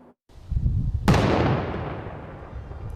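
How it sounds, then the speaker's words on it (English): Controlled detonation by a police tactical and bomb unit in an urban Calgary block, heard from across the road: a sharp, heavy blast that booms and rolls away in a long rumbling tail over a low rumble of background noise. "these blasts and explosions are getting louder and bigger, sending dirt and smoke right up into the air"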